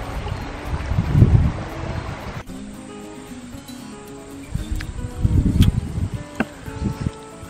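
Creek water flowing at a free campsite near Mount Buller, Victoria, Australia: a close, rushing wash that swells and ebbs in two louder bursts with quieter trickling between.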